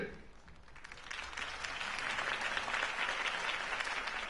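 Applause from a crowd in a video game swells and builds, then holds as steady, dense clapping with a faint murmur of voices mixed in.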